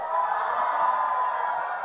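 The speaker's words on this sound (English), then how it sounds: "let's put a big loud noise and a thunderous clap for Jimmy, Thang, and Traffic Jam" A crowd at a North East Indian Catholic youth gathering cheers and roars loudly and steadily for the whole moment, a dense wash of voices without pause.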